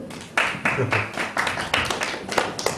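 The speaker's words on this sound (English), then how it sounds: "By applause, how many people think this is a photo?" Live comedy show audience clapping to vote that an image is a photo: a steady wash of many hands clapping at close range, moderately loud and sustained throughout.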